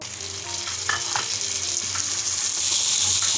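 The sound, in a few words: frying chicken liver with onions in a pan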